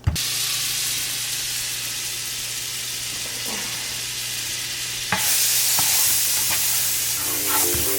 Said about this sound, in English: this is dessert grilled cheese, brie, Nutella, brie, strawberry preserves. Throw mad butter down.